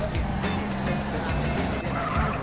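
Tires squeal as a car skids and slides in GTA, a steady engine roar and road noise running loud and continuous beneath the screech.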